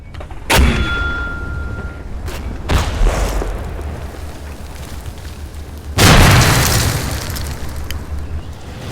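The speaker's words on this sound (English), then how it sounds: "On my right flank, to deal with the German half-tracks in overwatch position, I call in a mortar barrage." Mortar barrage explosions in the Combat Mission: Final Blitzkrieg war game: three heavy, booming blasts a few seconds apart, each with a rumbling tail. The last is the biggest, and a faint sharp crack sounds between them.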